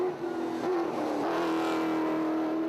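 Rally cars pull away at the ceremonial start of the Toyota Dealer 400 rally in Lydenburg, a steady engine drone with a strong low hum and revving under crowd ambience, continuous and moderately close.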